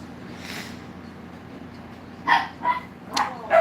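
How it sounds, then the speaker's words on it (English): Pet dogs, one named Willow, indoors at home, giving a few short sharp barks and yips in quick succession after a quiet stretch. "you guys go and bark, you little buggers"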